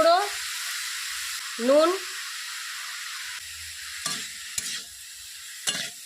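Bottle gourd with dry red chillies, bay leaves and turmeric is stirred in a hot pan, giving a soft steady sizzle broken by a few sharp scraping clanks, while someone speaks briefly at the start.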